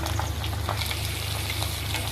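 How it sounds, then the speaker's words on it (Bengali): Marinated fish fries in hot mustard oil in a wok for a light fish curry, giving a continuous close crackling sizzle with small pops, moderately loud, no voices. "সরিষার তেলটি গরম হয়ে আসলে আমি এর মধ্যে দিয়ে দিচ্ছি মেখে রাখা মাছগুলো"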